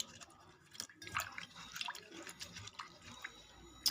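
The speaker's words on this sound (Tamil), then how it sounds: "செம்பருத்தி இலை போட்டு வாஷ் பண்ணிக்கலாம் இது மெதுவாக ஒவ்வொரு இலையாக தான் பண்ண முடியும்" Hibiscus leaves rubbed in water one at a time, giving soft drips and wet squishing sounds close by, quiet and irregular.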